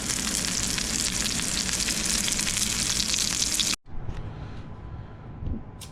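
Ahi tuna searing in a hot pan, a loud, dense, continuous sizzle that cuts off abruptly near the end, leaving a quieter crackle and a couple of soft handling knocks.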